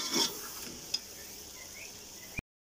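Chicken frying in a pot while a spoon stirs it, uncovered, for a Peshawari yakhni pulao: a faint, steady sizzle with a soft scrape early on and a sharp click near the end.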